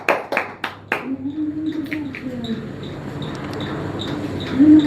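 Several sharp, loud hand claps ring out in quick succession at a prize-winner announcement during a lucky draw. They fade into a low murmur and a voice.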